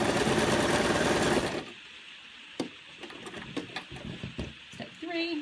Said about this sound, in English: I'm just going to run through my automatic buttonhole creation process.